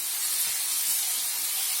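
Date molasses sizzle and steam in a hot pan, giving a steady, dense hiss that runs unbroken and fairly loud, close up, with no voices.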